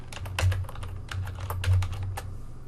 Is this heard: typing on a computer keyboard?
yes